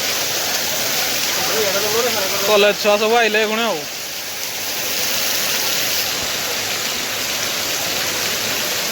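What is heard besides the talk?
heavy rain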